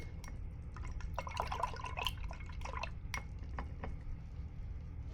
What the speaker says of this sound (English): So I need a brush. I have one here. Let me wash it off.